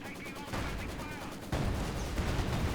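Gunfire in Company of Heroes 2, bursts of shots and impacts in a wartime battle, heard under someone talking.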